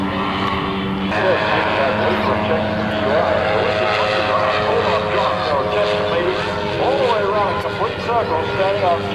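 An ultralight airplane with a wingwalker flies at an airshow, its propeller engine droning steadily and loudly throughout, with a voice talking over it.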